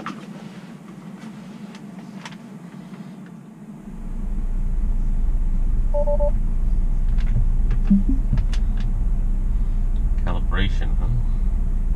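Tesla Model Y Performance electric car setting off on a drive, a low road rumble swelling in after a few seconds and holding steady, with faint clicks and a voice speaking briefly inside the cabin.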